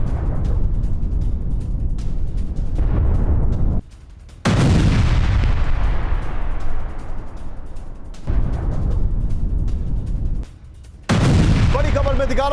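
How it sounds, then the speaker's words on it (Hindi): Hezbollah rocket launches fired toward Nahariya, Israel, roaring in several long loud blasts with rushing, crackling sustained noise, broken by short near-silent cuts between shots. "इजराइल के नारिया में हिजबुल्लाह ने दागे रॉकेट, ये देखिए तीनों ब्रेकिंग, तीनों शॉट दिखाई"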